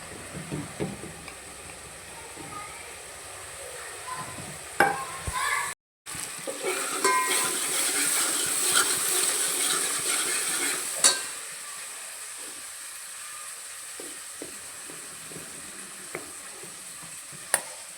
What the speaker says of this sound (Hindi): तो इधर मसाला भून के तैयार हो रहा है फटाफट